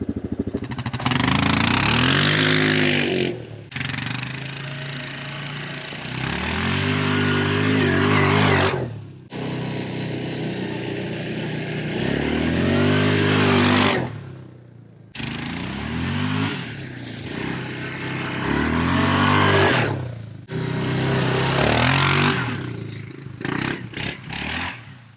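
2026 Yamaha Grizzly EPS ATV engine on a test ride, revving in repeated surges that rise and fall in roughly four-second cycles with brief drops between, loud and close, with some clatter and no voices.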